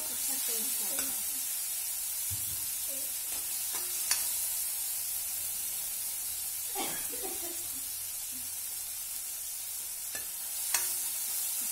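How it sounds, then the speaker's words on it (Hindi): Soft, steady sizzling of a spice tempering frying in a pan for bottle gourd and chana dal curry, with occasional light scrapes and clinks of a spoon stirring, quiet and close. "देखो दोस्तों अभी हमारा तड़का थोड़ा सा पकने लगा है"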